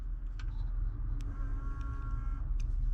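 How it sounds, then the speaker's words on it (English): A fuel lift pump on a 1987 Ford F-150 hums faintly for about a second, a thin steady whine over low rumbling background traffic noise, bracketed by a few sharp clicks. "That's the lift pump."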